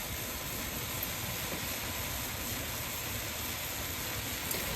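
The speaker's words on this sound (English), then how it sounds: "So the tea has come to a boil" Chai tea at a rolling boil in a pot on the stove, giving a steady, close bubbling hiss with a low rumbling churn and no voices.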